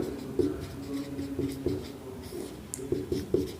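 Handwriting with a pen, steady scratchy strokes forming a name in short bursts, close and fairly quiet with no talking.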